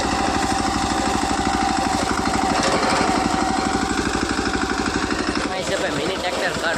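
A mini tractor engine runs steadily on a farm during groundnut harvesting, a loud, dense, rhythmic chugging that keeps going throughout.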